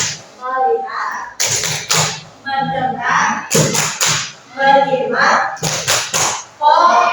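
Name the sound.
rhythmic hand clapping in the "tepuk fokus" clap routine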